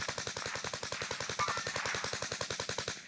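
Rapid automatic gunfire in the Warzone video game, a long, evenly spaced burst of sharp shots firing close and loud for the whole stretch with almost no pause.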